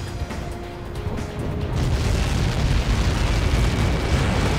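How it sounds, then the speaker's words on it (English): A massive explosion in the flight combat game Ace Combat 7, heard as a deep, roaring blast that swells and then rumbles on loudly and continuously, with no talk over it. "How many got caught in that explosion?"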